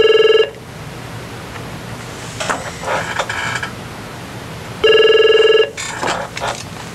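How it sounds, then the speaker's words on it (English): Telephone ringing in a legal services office, with two loud electronic trill rings about four seconds apart, each followed by softer clicking and handling sounds. "Watch Jose answer the phones."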